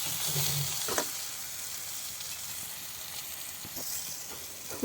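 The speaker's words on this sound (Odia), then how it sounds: "ପୋଟଳଟା ଏମିତି କମ୍ ତେଲରେ ଭାଜିବା ସବୁଠୁ ଭଲ, ଛାଣିଲେ ଭଲ ନୁହେଁ।" Pointed gourd (potol) fries in a little oil in a home kitchen, giving a steady close sizzle with a few clinks of stirring.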